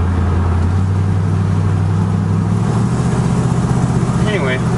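A 1965 Ford station wagon engine runs steadily close by, a low continuous drone holding even through the clip, with a brief voice near the end.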